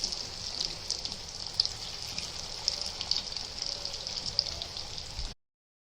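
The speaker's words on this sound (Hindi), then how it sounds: "अभी इसको फ्राई करके गोल्डन ब्राउन होने तक फ्राई करेंगे" Chicken and cheese kebabs with potato fry in hot oil in a pan over a gas flame, a steady close crackling sizzle with hissing and small pops throughout before it cuts off abruptly.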